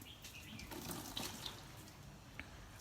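Water is poured to wash something at home, making a soft, continuous splashing and running stream that stays quiet and close throughout.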